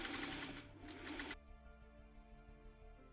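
A sewing machine stitching quilt blocks whirs in a fast, close run, then stops abruptly, leaving a faint hum and soft ambient sounds.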